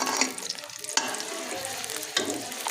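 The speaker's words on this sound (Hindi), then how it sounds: "ऑयल हमारा गर्म हो चुका है तो अब हम प्याज डालेंगे इसमें" Onions go into hot oil in a pan for a pumpkin and chana dal dish, a bright, close sizzle with sharp bursts and stirring scrapes, no talking.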